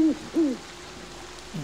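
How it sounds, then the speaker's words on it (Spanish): Owl hooting played as a sound effect during a tabletop role-playing session, with three breathy two-note hoots, one at the start, one soon after and one at the end, standing alone over a faint steady hum. "¿Oís un búho?"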